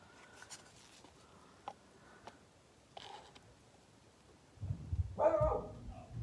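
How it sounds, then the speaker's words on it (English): A dog barks indoors, a short burst of a few loud barks late on after quiet sounds of crafting work, fairly close and alone without talk. "Oh, there goes the dog."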